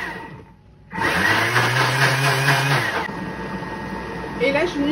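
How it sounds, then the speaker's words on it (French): A Thermomix TM6 kicks into turbo mode to clean its bowl, a loud sustained whirring blender roar that starts abruptly after a brief quiet and keeps running steadily to the end, with a low hum beneath. "je vais venir lancer mon Thermomix en mode turbo pour vraiment m'aider au nettoyage du bol"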